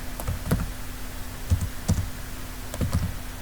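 Someone types on a computer keyboard while writing HTML code, in short bursts of a few clicky keystrokes separated by pauses, close and moderately loud over a faint steady hum.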